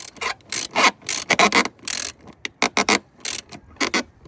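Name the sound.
tightening two 10mm bolts on throttle body clamp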